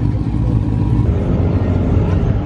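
Dodge Hellcat engine at a busy car meet, a loud steady low rumble of idling and revving V8 under crowd noise and faint voices.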